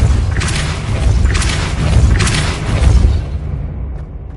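A Depulso spell in Hogwarts Legacy fires as a series of heavy, booming thumps with airy bursts, loud and close, before the sound cuts off into near silence.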